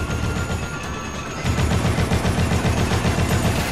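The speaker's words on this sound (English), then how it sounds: "I say as I shoot them down" Rapid automatic gunfire in Dead Rising, a continuous loud burst of shots that grows heavier and more rhythmic halfway through, firing at enemies with no talk over it.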